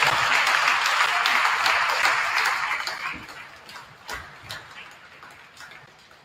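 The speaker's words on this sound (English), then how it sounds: "One more round of applause for all of our parents and our parents." Crowd applause at a volleyball match, dense and steady at first, then thinning out into scattered claps toward the end.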